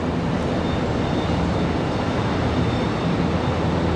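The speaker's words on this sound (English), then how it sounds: "Southwest taxiing out." A Southwest airliner taxiing out at Raleigh-Durham airport, heard as a steady broadband engine roar with a faint high whine, constant and moderately distant, no voices.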